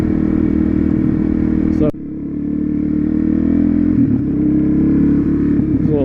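A small motorcycle engine runs loud and close during a second gear clutch-up wheelie. Its note drops sharply partway through, then climbs again with shifting pitch. One short spoken word is heard.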